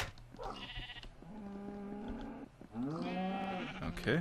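Sheep in the Minecraft video game bleat several times in close succession, nearby, with wavering calls over a faint background.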